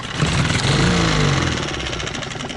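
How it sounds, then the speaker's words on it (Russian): An outboard motor runs close by, steady and loud, failing to pick up revs, with a rough, slightly uneven drone and a low throbbing pulse throughout. "Обороты не набирает."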